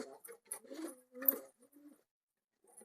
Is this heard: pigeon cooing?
yes